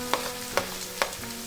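Mixed chow mein ingredients frying on a high flame, a steady sizzle punctuated by three quick evenly spaced spatula strikes against the pan, close and with no voices.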